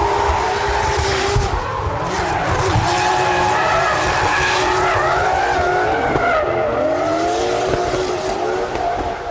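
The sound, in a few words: drift car skidding on Calmont mountain road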